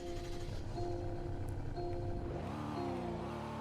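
A luxury car engine turns over and settles into a steady, fairly loud idle hum, and the pitch shifts partway through as the revs change.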